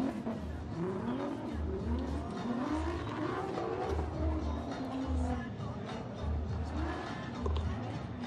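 A Formula Drift car on its practice run at the Orlando round wails steadily and loudly, its engine note rising and falling as it revs. Tire squeal runs through the pass, with faint voices in the background.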